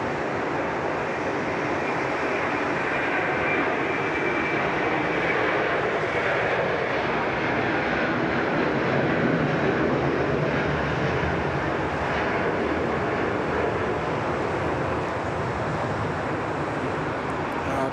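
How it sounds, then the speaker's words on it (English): A Qantas 127 airliner departs from Sydney Airport's runway 34 left, bound for Hong Kong, with a loud, sustained engine roar that stays steady throughout. "There we go, Qantas 127 off to Hong Kong."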